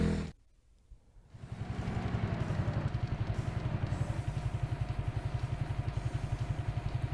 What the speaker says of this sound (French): Tension sur sa moto là.